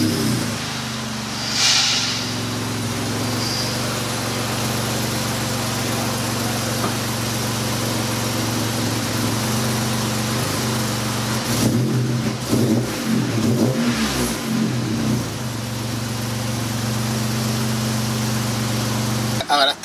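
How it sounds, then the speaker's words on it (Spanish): A Jeep Gladiator engine with a MagnaFlow exhaust rumbles at a steady low idle, then revs briefly twice in a row near the end, loud and close. "para que puedan escuchar esa tubería MagnaFlow y escuchar lo que sería la turbina de"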